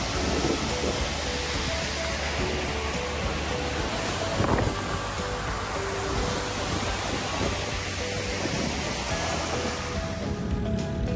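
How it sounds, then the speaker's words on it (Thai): Steady rain falls on a ride through the countryside near Paksong in Laos, a dense, continuous wash of patter mixed with wind and a low rumble throughout. "ฝนตกตลอดทางครับ"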